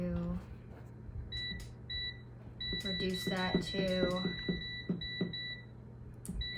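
Short electronic beeps from an air fryer's control panel as the cooking time is set in a home kitchen, several clear tones in quick succession with a person talking throughout.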